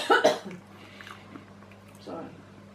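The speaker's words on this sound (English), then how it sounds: "If you've got a cough, you've got a cough." Someone gives a short, sharp cough up close in a bakery, followed by quieter mouth and throat sounds and a faint voice over a low background hum.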